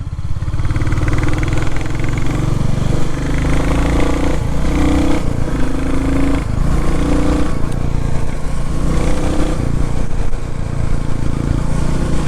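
A Royal Enfield Classic 350 motorcycle rumbles steadily as it is ridden, its low thumping engine note loud and continuous, rising and falling slightly with throttle changes and mixed with road and wind noise.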